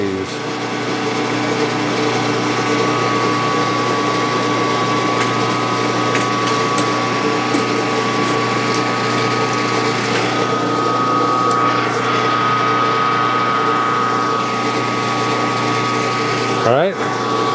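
A nine-cylinder radial engine running at a steady low idle, a continuous droning rumble with even pulsing and a whining hum on top, close and loud, with a brief knock near the end.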